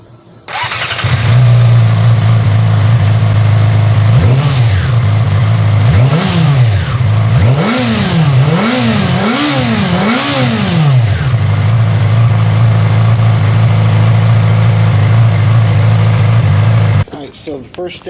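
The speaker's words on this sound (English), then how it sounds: "I'm gonna go ahead and play what the stock exhaust actually sounds like" A 2008 Yamaha YZF R6 motorcycle on its stock exhaust starts, idles, then gives several sharp rising-and-falling revs before settling back to a steady idle, loud and close.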